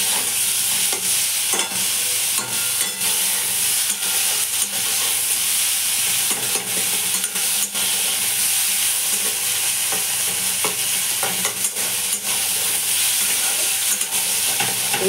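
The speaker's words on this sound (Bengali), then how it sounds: "ভালো করে নেড়ে চেড়ে নেবো।" Chicken pieces fry with salt and sugar in a hot pan while being stirred, giving a steady loud sizzle and hiss with scraping stirs throughout, no talking.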